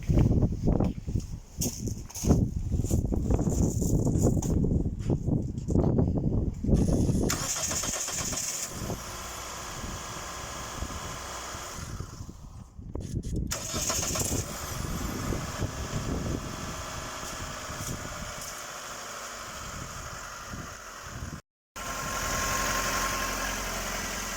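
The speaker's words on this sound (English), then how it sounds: "Just gonna start the car now." A Mitsubishi Lancer Carisma engine, fitted with a newly replaced starter motor, cranks and catches. It then settles into a steady, fairly quiet idle with a brief dropout near the end before the hum resumes.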